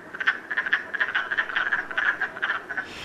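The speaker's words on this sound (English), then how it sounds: "Our very first frog in the spring is typically something called the wood frog" Wood frog calling in spring, a close, loud series of short raspy clucking croaks repeated in quick irregular bursts with no talking.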